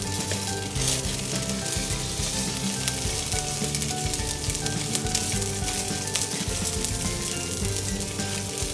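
Teriyaki salmon frying skin-side in a pan, a loud, continuous crackling sizzle with constant spattering that stays steady and close throughout.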